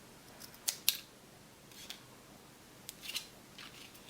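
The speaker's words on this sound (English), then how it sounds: "And cut another side." Scissors cutting card stock for a handmade birthday card: a few sharp close snips in two short clusters over quiet background hiss, with no talk.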